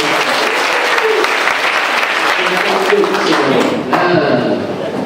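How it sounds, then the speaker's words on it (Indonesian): A church congregation applauds together in a steady, dense wash of clapping that fills the room, loud and continuous for several seconds, with scattered voices underneath. "Kita tepuk tangan dulu."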